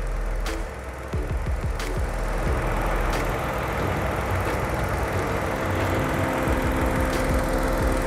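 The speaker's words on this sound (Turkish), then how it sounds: "3 ta silindr turbo bo'lsa ham baribir 4 ta silindrlarga tekis ishlamaydi, motor juda ham qaltirab ishlayapti" Chevrolet Onix three-cylinder turbo engine idling roughly, a steady loud drone with uneven shaking pulses and a few faint clicks, heard close with no talking.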